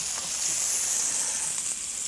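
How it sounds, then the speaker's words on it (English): Pork loin medallions pan frying, giving a steady, close sizzle with a bright hiss that holds evenly throughout and carries no talk over it. "you just pan fry the medallions like that"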